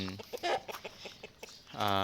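A yellow hen gives a few short clucks among gamefowl, with a brief louder call near the end, under a voice speaking nearby.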